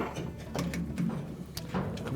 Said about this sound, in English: we'll take the slip joint pliers, we'll reach in and we'll grasp the spring clamp that attaches to the pump